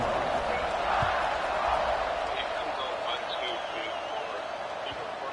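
Stadium crowd at a Michigan football game just before kickoff, a steady broad roar of many voices with faint cheering swells throughout.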